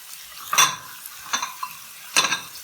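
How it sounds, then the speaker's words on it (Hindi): A spoon scraping and stirring sandwich filling with salt and black pepper in a pan, three distinct metallic scrapes spaced about a second apart over a faint sizzle, close and fairly crisp. "इसमें चम्मच चलाते रहना।"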